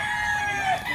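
Fighting rooster, a Kelso cross breed, crowing close by in one sustained call over steady farmyard background.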